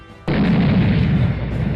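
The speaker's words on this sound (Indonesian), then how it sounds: "bangunan di belakangnya tiba-tiba meledak." A building blows apart from a planted bomb: one sudden, loud, close blast that swells into a long, heavy rumble and roar, continuing to the end without easing.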